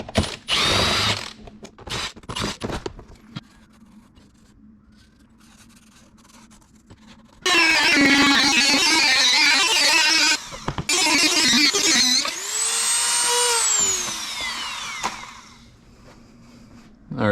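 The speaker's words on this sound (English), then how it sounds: "I'm gonna cut the wheel liner out to fit this opening properly" A power tool cuts out a car's wheel liner with loud, harsh bursts of whirring and grinding. Long stretches of cutting alternate with quieter pauses and scattered clicks and scrapes, and one tone sweeps upward near the end.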